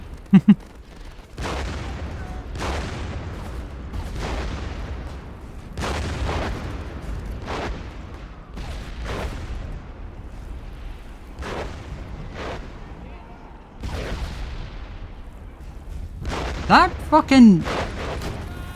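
Artillery shells from WARFARE strike around a German tank in a barrage of repeated heavy booms and rumbling blasts, spaced every second or two, loud and close, with voices talking over them.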